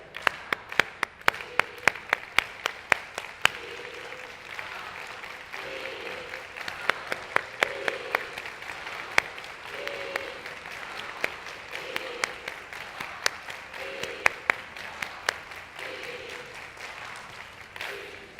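An audience claps along in a slow, steady rhythm, sharp hand claps sounding regularly across a room, with a faint voice-like murmur in the middle range recurring in short phrases beneath.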